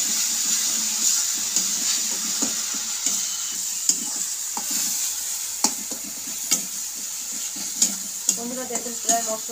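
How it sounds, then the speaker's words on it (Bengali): Onion and spice masala for tel baigun fries in oil in a pan with a continuous bright sizzle, while a spoon scrapes and taps the pan in repeated strokes. A voice murmurs faintly near the end. "বন্ধুরা দেখুন প্রায় মশলাটা কষা হয়ে যাচ্ছে"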